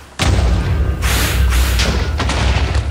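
Explosions from the wither in Minecraft, a loud close blast with deep rumbling booms that roll on and renew in bursts throughout.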